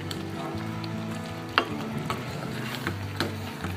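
Cumin powder goes into a pan of thick drumstick dal curry, which sizzles steadily up close, with a few sharp clinks and scrapes from stirring and no voices.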